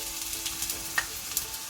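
Eggplant rings sizzle in a hot pan, a low steady frying hiss with a few small pops and crackles, close and fairly quiet.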